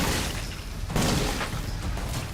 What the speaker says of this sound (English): First let's shoot the barrel. There we go. Nice little explosion there.